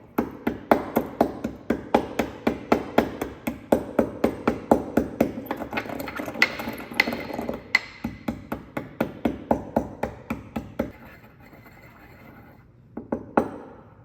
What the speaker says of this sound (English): we want to go ahead and crush our tablets that we measured out